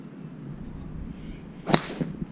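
A sharp, single crack of a golf driver striking a ball cuts through quiet outdoor ambience, followed by a couple of faint softer clicks.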